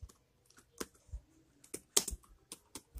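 Keys clack on a computer keyboard during a Python tutorial, a quick uneven run of close, soft taps and clicks in a quiet room, with no voices over them.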